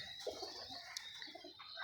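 Ferozpuri pigeons coo softly, with a few faint low throaty calls over quiet background hiss and a couple of brief sharper chirps.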